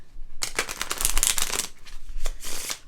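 Cards being shuffled up close, a rapid riffling burst that fades and then returns in a few shorter flutters.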